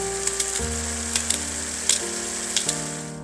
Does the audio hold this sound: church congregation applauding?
no